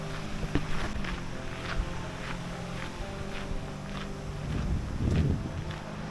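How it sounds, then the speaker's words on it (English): Strong wind buffets and rushes steadily outdoors among bushes on Lauttasaari island in Helsinki, Finland, with gusts swelling louder near the end and a few soft rustles. "I'm out here in the bushes because it's mad windy"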